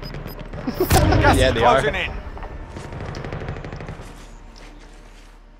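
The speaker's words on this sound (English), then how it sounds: "I think they're getting sniped." Sniper gunfire in a video game: a loud burst of shots around the first second, then fading rumble, with a person talking briefly over it.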